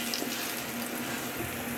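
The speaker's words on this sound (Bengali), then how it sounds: "পানিটা দিয়ে দেবো" Warm water pours steadily into a cooking pan of rohu fish curry with drumstick leaves, making a loud, unbroken rushing splash that fills the short moment without any voices.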